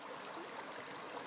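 Stream water pours over an odd bedrock ledge forming a small waterfall, a steady, close, broadband rush that holds even throughout with no talk.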